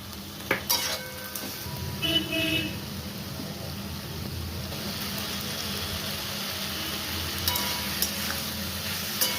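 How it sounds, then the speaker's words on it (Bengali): Okra and potato curry with masala is stirred in a pan, a continuous sizzle under repeated metal spoon scrapes and clinks against the pan, fairly close, with a few sharper knocks. "এই ভেন্ডি মশলা দিলাম, দিয়ে এবারে নাড়ছি।"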